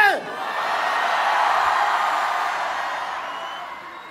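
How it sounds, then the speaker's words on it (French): A live audience at a French reality-show clash night shouts and cheers in support of a contestant, a broad, sustained roar of many voices that swells and fades over a few seconds. "Tous ceux qui sont pour Maëlle, je veux vous entendre crier"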